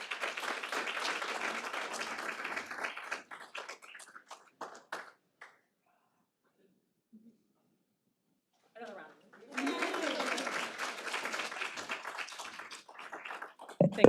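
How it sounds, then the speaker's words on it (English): Audience at a housing justice summit applauds after a speaker's introduction: steady clapping for about five seconds fades into near silence, then a voice begins speaking at a moderate level. "Thanks for that applause, everyone."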